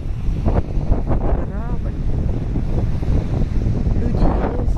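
Wind buffets the microphone in low, rumbling gusts near the sea in Cyprus, with a voice briefly audible beneath the blustery noise.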